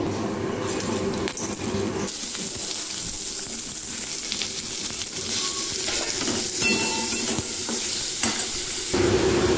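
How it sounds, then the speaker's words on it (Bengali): Paneer shallow frying in a pan, a continuous close sizzle with crackling and bubbling that shifts in intensity, with no speech. "পনিরগুলোকে হালকা করে শ্যালো ফ্রাই করে নেব।"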